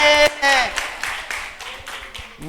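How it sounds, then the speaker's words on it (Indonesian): Children at a Sunday school Easter service clap their hands in a quick burst of rhythmic claps, mixed with voices and a sung or called-out tone at the start. "Tepuk tangan semuanya."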